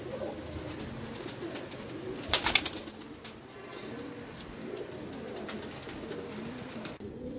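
Pigeons coo at a pigeon show of top-class birds, with soft low cooing spread through steady background noise and a brief sharper burst near the middle.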